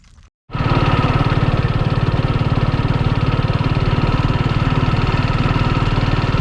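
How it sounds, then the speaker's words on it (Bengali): Motorbike engine running steadily while riding along a disused World War II airfield runway, a loud close rhythmic putter that kicks in after a short gap and holds evenly throughout, with no voices. "আমি এক হাতে বাইক চালাচ্ছি"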